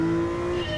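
Steady engine drone of a car being driven around corners in Gran Turismo 7, a sustained tonal hum with no talk over it, over in under a second.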